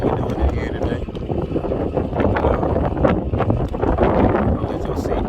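Strong wind gusts blast into the microphone on outdoor tennis courts during a baseball practice, with a continuous rumbling buffet and rustle throughout and no pause.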